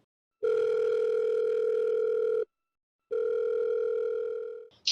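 A telephone ringback tone sounds twice, each a long steady electronic buzz lasting about two seconds with a short silent gap between, clear and close, then a brief click as the call connects.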